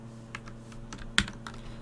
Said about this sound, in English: if I bring it up, I can use the keyboard